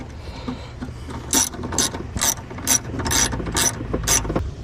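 A ratchet tightens a bolt while a new PCM is installed in a truck: about seven quick bursts of sharp metallic clicking, close and fairly loud, with no talk.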